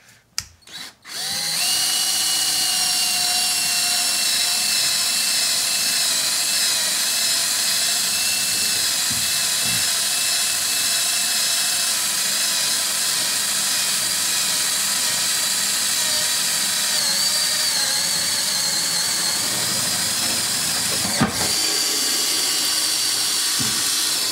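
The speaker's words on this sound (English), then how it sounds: "then I'm going to finish it off with my regular size drill bit here" An electric drill whirs loudly and continuously for over twenty seconds, the motor pitch wavering slightly as the bit bores holes in a 2016 Toyota Tundra for running boards, preceded by a few clicks.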